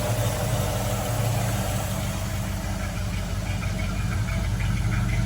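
A 1964 Chevrolet Impala SS with dual exhaust idles steadily and close by, a smooth, even low rumble holding the whole time with no talk over it.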